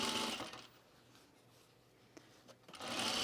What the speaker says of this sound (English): I'm just sewing it right sides together, 1/4 inch seam allowance.